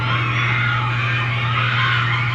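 Concert crowd of fans screaming, a loud dense wall of sustained cheering and shrieks with no break, no talking.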